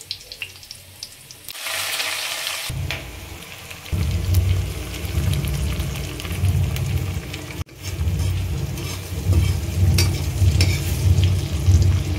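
An egg fries in a pan in a home kitchen, a steady sizzle with stirring and bursts of running tap water mixed in, close and fairly loud throughout.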